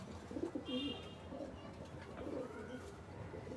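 A racing pigeon coos in a few soft, rounded phrases close by, with faint higher chirps from other birds and low background noise.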